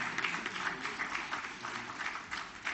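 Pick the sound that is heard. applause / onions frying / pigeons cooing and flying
applause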